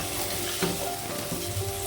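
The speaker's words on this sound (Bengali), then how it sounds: "আলুটাকে পেঁয়াজের রসুনের সঙ্গে একটু ভাজা ভাজা করে নিতে হবে" Potatoes sizzle and crackle in hot oil with onion and garlic, close up, with a couple of soft scraping stirs.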